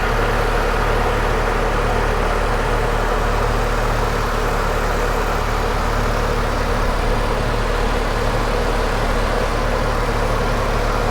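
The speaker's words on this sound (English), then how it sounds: "So here is our Chevy V8 engine." The Chevy V8 engine of a 2005 Pontiac GTO idles steadily and evenly, a continuous low rumble with no changes in pace throughout.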